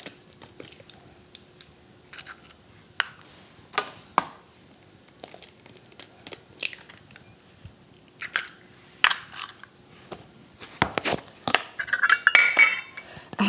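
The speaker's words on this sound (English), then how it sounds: "I'm going to add a couple of eggs" Eggs go into a chicken meatball mixture in a bowl, with scattered sharp taps, clinks and small crackles spaced apart, then a busier cluster of clatter toward the end.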